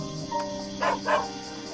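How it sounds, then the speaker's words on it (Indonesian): A dog in Doraemon Story of Seasons lets out two quick, short barks close by over steady background game music. "Oh, dia ngegonggong."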